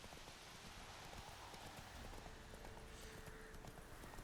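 Roach the horse trots along in The Witcher III, hooves clip-clopping in a steady rhythm close by, under a constant wash of ambient game noise with no talk.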